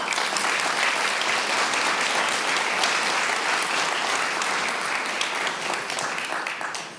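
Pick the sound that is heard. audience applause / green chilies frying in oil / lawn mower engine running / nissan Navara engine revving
audience applause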